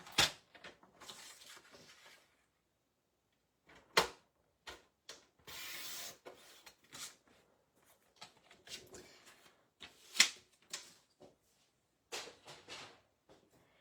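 Cardstock is cut for a triple diamond pop-up fun-fold card, with intermittent close crisp slicing swishes and sharp clicks from the trimmer, separated by quiet gaps.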